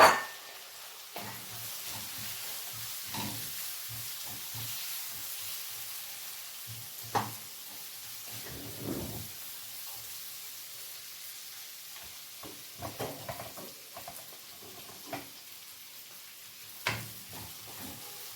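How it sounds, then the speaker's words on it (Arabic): Onions sizzle and fry in rendered sausage fat in a pan, a soft steady crackle close by, punctuated by occasional stirring scrapes and clinks of a utensil against the pan. "هنا هنحط البصل اهو اللي احنا حطيناه في التوابل"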